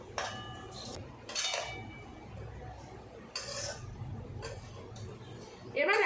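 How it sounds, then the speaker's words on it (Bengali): Fried gaja sweets being stirred in sugar syrup, with several metallic scrapes and clinks of a utensil against the pot spaced out over a low background hum. "এবার আমি এটাকে দিয়ে দেবো রসে দুই মিনিট আমি এরকম নাড়বো চাড়বো"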